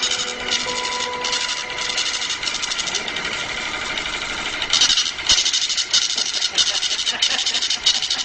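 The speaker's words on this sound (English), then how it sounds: "will now cause the voting machine to print out a tape reading the number of votes that it has just read" A voting machine prints out its results tape, a steady buzzing, rattling mechanical whir that runs throughout and grows louder and more pulsing in rhythmic bursts partway through.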